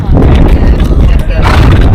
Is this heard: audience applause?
no